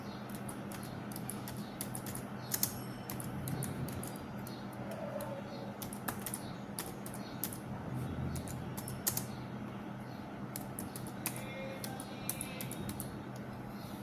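A computer keyboard is typed on steadily while entering text into a Microsoft Excel table, with quick close clicks in irregular bursts over a faint room hum and a few sharper taps.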